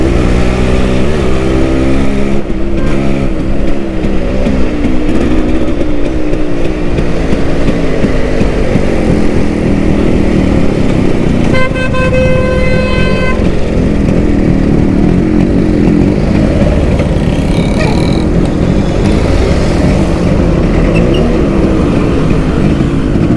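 A vintage Yamaha RX135 motorcycle engine runs steadily and loudly up close for the whole stretch, its throbbing note rising and falling slightly with small throttle changes.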